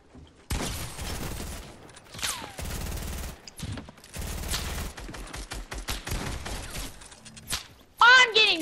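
Rapid bursts of sniper and automatic gunfire in a Fortnite battle, several sharp volleys close by with gaps between them, under excited player chatter and a brief high electronic sound near the end.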